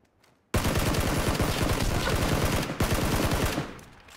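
Automatic gunfire in a video game shootout breaks out suddenly after a quiet start, a rapid loud burst of shots that pauses briefly, resumes, then tapers off.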